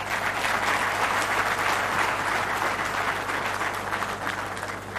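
A large crowd at a Congolese school graduation ceremony gives sustained, dense applause after the president's speech, loud and continuous, fading slightly toward the end.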